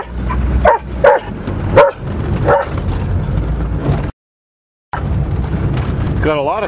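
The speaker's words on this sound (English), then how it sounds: "Oh, that stupid dog." A dog barks several times in sharp, spaced yaps, moderately near, over the steady engine rumble of a turbocharged Volvo, with a brief silence midway.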